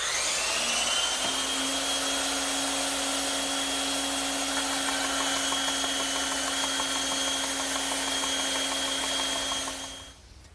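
Power saw cutting a heavy, tapered wooden stretcher piece for a trestle dining table, a loud continuous high whine with steady pitch for about ten seconds, then a quick spin-down at the end.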